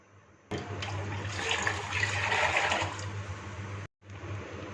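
Water gushes and splashes steadily into a cooking pot, 2 litres being added, for a few seconds, then cuts off abruptly before resuming more quietly.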